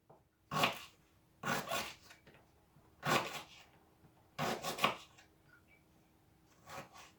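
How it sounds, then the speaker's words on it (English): A knife chops ginger in short bursts of rough, rasping strokes against a board, several quick cuts grouped together with brief pauses between them. "So just cut up the ginger as fine as possible"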